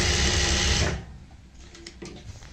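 A sewing machine stitches a pillow cover in a loud, rapid burst about a second long, then stops, leaving quiet handling of the fabric.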